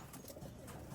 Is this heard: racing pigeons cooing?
yes